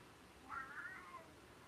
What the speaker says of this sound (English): Now the other cat's talking to me.